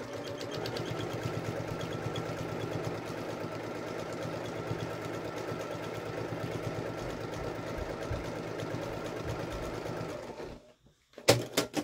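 A sewing machine stitches a quilted scrap-fabric triangle pouch in a steady, even mechanical whir that runs continuously before stopping abruptly, followed by a few short clicks.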